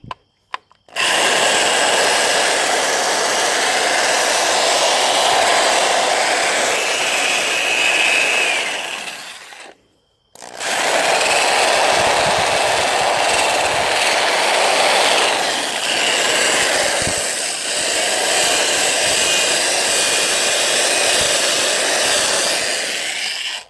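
A loud electric drill powering a homemade watermelon smoothie maker whirs steadily for several seconds, stops briefly, then starts again and runs on with a constant high motor drone.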